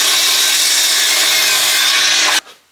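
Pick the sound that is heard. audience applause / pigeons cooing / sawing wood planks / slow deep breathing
sawing wood planks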